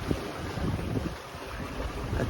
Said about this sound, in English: The waves are about 12 feet now.